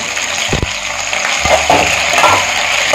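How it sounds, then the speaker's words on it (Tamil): Tomato, ginger and curry leaves sauté in a pan for a country chicken curry, giving a steady close frying sizzle with a few stirring clacks and scrapes; no one speaks. "இது அப்படியே லைட்டாக வதங்கட்டும்"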